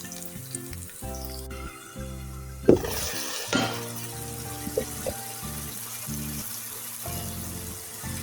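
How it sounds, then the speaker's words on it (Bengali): Masala and onions fry in a pan for an eggplant dopiaza. A steady close sizzle runs throughout, with a few sharp bursts and hisses as a little water hits the hot oil. The pan keeps frying the whole time. "মশলাটা পাক করার জন্য অল্প একটু পানি দিব।"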